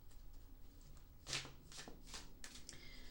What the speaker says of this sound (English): So I'm going to shuffle these up